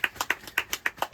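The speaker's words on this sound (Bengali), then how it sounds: "হাততালি সবাই, হাততালি।" A small group at a home anniversary celebration claps hands, about ten sharp, fairly even claps close by in quick rhythm, with no talk over them.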